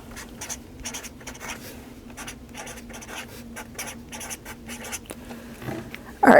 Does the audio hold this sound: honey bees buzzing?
no